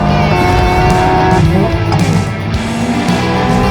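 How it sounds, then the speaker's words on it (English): A Hyundai N RN24 race car drifts with a loud, strained engine roar and squealing tires, the harmonic whine rising and falling as the car slides, close and continuous throughout. "N Drift Optimizer makes drifting easier, more accurate, more fun."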